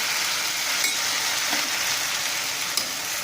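Curry leaves and grated coconut stir-frying in a pan for a Tamil curry leaf thuvaiyal, a steady close sizzle running throughout with faint scrapes of stirring and no talk.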